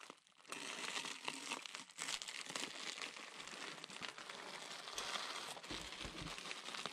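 Packing tape is crumpled up close by, a dense and continuous crinkling and crackling that runs for several seconds without pause, fairly quiet overall.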